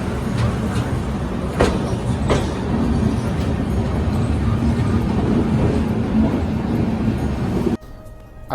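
The Lucknow to New Delhi Shatabdi Express rolls along at speed, heard from inside the coach as a loud steady rumble with rhythmic clicks of wheels over rail joints, briefly cut near the end.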